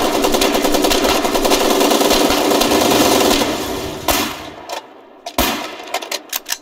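Rapid gunfire aimed at a locked object in the war game Foxhole, a dense sustained burst of automatic shots from several guns that thins out into scattered single loud reports and pauses.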